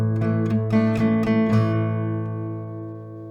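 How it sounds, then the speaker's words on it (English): Acoustic guitar playing the intro of a song in a fuller rock-and-roll style with extra strings added, a quick run of close, bright strums and notes that rings out and fades. "you want to add more strings to get more depth and flesh to it"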